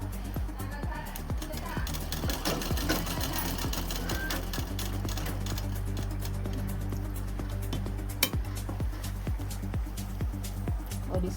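Coat suit seams are sewn on a machine, a continuous close mechanical whirr running throughout while someone talks over it.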